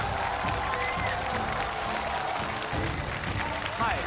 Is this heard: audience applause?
yes